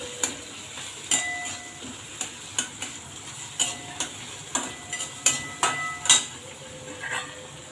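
Green chili and garlic paste sautéed in a pan, with a spatula clicking and tapping against the metal in a loose steady rhythm over a faint sizzle, close up with no talking.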